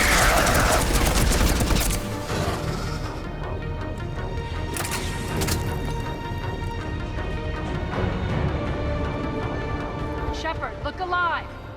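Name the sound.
gunfire in video game Mass Effect Legendary Edition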